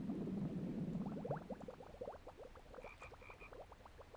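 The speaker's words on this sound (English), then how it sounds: "Is the toad blowing air bubbles?" A toad in a video game croaks in a rapid, rattling series of bubbly pulses over a low gurgling bed, fairly faint, with a brief high tone partway through.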